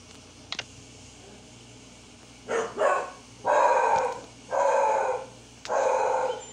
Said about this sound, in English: That is just my dog barking